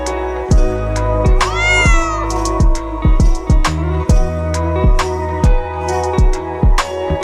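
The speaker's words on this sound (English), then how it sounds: "C for cat." A cat meows repeatedly, close and loud, with a string of short cries and one longer, rising yowl early on.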